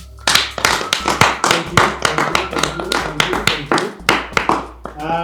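Hands clapping in a steady, fairly loud run of sharp claps, with a short spoken phrase over the claps near the end.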